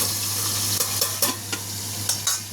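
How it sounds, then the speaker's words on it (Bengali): Large pabda fish frying in hot oil, a dense continuous sizzle with several sharp pops and spits breaking through at irregular intervals, close and loud. "তো বড়ো বড়ো মাছ খুব ফাটে, এই জন্য আমি এটাকে ঢাকা দিয়ে ফ্রাই করে নেবো।"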